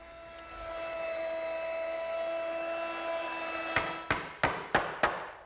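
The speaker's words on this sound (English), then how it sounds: "the only thing I need to do that is a 1/2 inch round over bit set up in my router" A router fitted with a half-inch round-over bit shapes the edge of a wooden top rail, whining steadily before the tone changes into a run of about five sharp knocks near the end.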